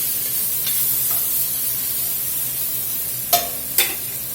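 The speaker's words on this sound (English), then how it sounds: "We got to cook these low and slow to get them to caramelize without burning them up." Chopped onions sizzle low and slow in a soup pot for a Southern-style beef and mushroom onion soup, giving a steady soft hiss broken by two brief sharp clicks near the end.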